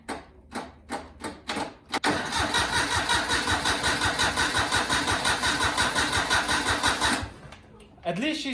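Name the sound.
Daihatsu Hijet pickup truck engine cranking over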